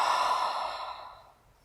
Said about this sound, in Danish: Ånder ud gennem munden.